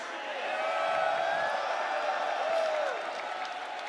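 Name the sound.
crowd cheering for Curated at EVO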